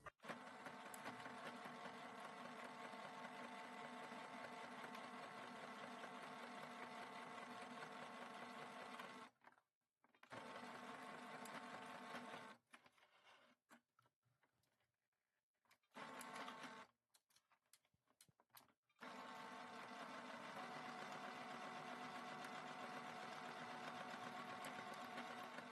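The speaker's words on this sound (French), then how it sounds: "je couds couture au point droit standard avec des points d'arrêt" Domestic sewing machine running a standard straight-stitch seam on garment pieces with backtack stitches, steady close whirring in long continuous bursts broken by short pauses and stop-start stitching in the middle.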